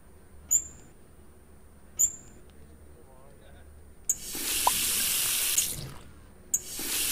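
A large pot fills with water from a kitchen tap in the game Cooking Simulator: a few faint clicks, then about two seconds of loud, steady rushing flow, followed by another brief gush.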